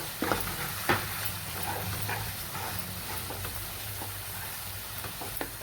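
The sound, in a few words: frying spice masala for soybean gravy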